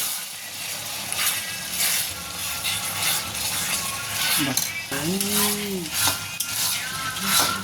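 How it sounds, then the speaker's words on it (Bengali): Spice paste with onions frying in a pan before fish goes in, a steady close sizzle with stirring and clinks of a utensil on the pan, and voices talking over it. "ওই মশলাটা একটু পাকানো হচ্ছে, পেঁয়াজটা লাল লাল হয়ে যাওয়ার পরে তারপরে মাছটাকে আমরা ওখানে দিয়ে দেব"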